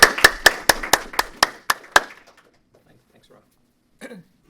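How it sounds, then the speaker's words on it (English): A small audience at an investor pitch event gives a short burst of about nine crisp, evenly spaced claps that fade out within two seconds, followed by near silence and a brief voice. "Applause."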